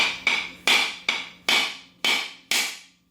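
Seven sharp cracking blows on a shell held in a doubled-up kitchen cloth, in a steady rhythm, each a loud hard impact with a short ringing decay, close by with no talking.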